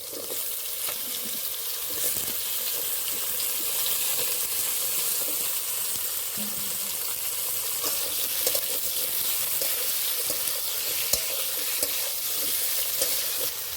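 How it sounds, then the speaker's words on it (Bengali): Eggplant pieces fry in hot oil in a pan, giving a steady, dense sizzle that runs unbroken throughout with small crackles and no talking. "এই তেলে কিন্তু আমি বেগুনটাও ভেজে নেবো"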